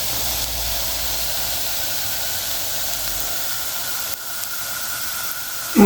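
Msemen cook in melted butter in a pan with a steady, close hiss of sizzling fat that holds throughout, dips briefly near the end, and is joined by a small clatter at the finish.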